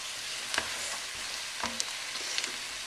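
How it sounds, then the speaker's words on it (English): Beef stirred around in a hot Dutch oven or cast iron pot for stew, a steady close sizzle broken by a few sharp scraping and clanking stirs, no talking. "So I'm going to add my beef back. Okay, we'll add the beef back. In. Yum. I'm going to kind of stir it around a coat."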